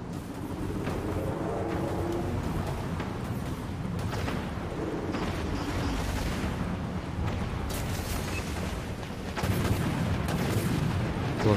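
Ship cannons fire in the naval combat game Dreadnought, a dense run of heavy booms and rumbling blasts over constant low engine drone, with no talk.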